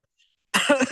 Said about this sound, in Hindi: ये खांसी बड़ी अजीब आ रही है